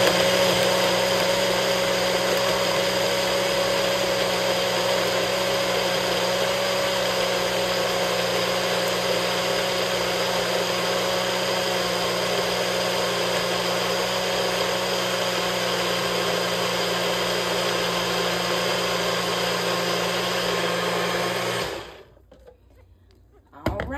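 A Nutribullet blender whirs steadily as it blends a blueberry pie smoothie, a loud, continuous motor drone with a harmonic hum that runs without a break for about twenty-two seconds, then cuts out abruptly into near silence.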